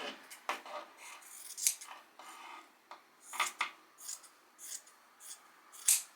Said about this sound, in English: Lay it flat and just go ahead and cut along that.